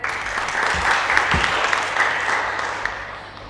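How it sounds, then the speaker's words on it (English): A crowd applauds steadily for a few seconds at a reception, a dense wash of clapping that fades slightly toward the end. "Let's have another round of applause for him."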